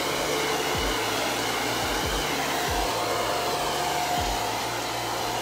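A hair dryer drying a chalk transfer on a repurposed craft item, blowing loudly and steadily for the whole stretch with a constant rushing airflow and motor hum, and no talking.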